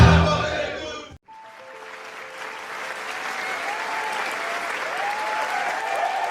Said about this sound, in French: Applaudissez, applaudissez, applaudissez, applaudissez, applaudissez.